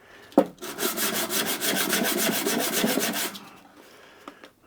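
Brass face roughened by hand with abrasive, a steady scratchy back-and-forth rubbing that runs for about three seconds between a sharp knock at the start and a few faint taps at the end.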